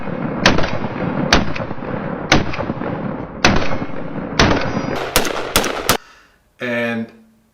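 Single shots from a 14.5-inch AR-15 rifle firing brass case ammunition, nine or so loud, sharp cracks at uneven spacing, tightening into a quicker cluster near the end before the firing stops and a short tonal sound takes over.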